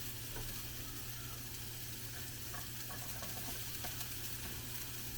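Garlic and onion fry in a pan over slightly lowered heat in cowboy-style cooking, giving a soft, steady sizzle and hiss that stays even throughout.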